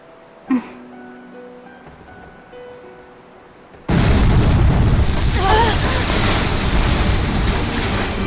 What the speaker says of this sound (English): Cannon fire astern!